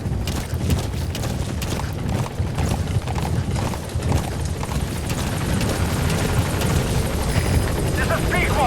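Pequod, a helicopter in Metal Gear Solid V, arriving at the landing zone: a loud, close, continuous rotor thump and engine roar that holds steady throughout, with a voice speaking over it.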